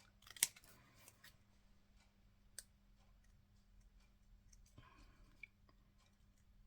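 Quiet scissors snipping around the edge of a handmade Christmas card, a few soft scattered cuts and clicks close by, with no talking.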